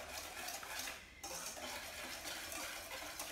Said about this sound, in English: And just whisk that until all that oil is absorbed